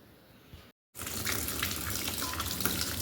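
Water from a tap gushes into a container at home. There is a brief gap, and then a loud, steady rushing stream continues.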